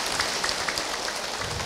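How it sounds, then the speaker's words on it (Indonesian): Studio audience at an Indonesian Islamic preaching talk show claps for the guests from Sukabumi: a dense, steady patter of many hands, fairly close and even throughout, with no voices on top. "Tepuk tangan untuk orang Sukabumi"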